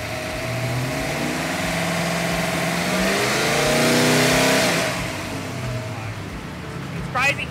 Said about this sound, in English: we're just going to fire the engine up now